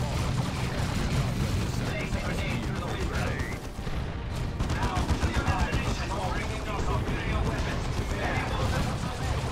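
Dense, continuous gunfire and machine-gun bursts rattle through a co-op battle in the video game Dawn of War II, loud and sustained under overlapping voices of players talking.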